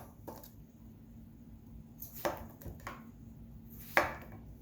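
A knife chopping through zucchini into moon-shaped slices on a cutting board, a few sharp, close cuts spaced irregularly over quiet background.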